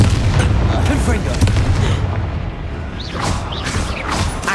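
Confringo fire spell blasts in the Hogwarts Legacy video game, loud booming explosive bursts with crashing impacts, and a voice speaks over them.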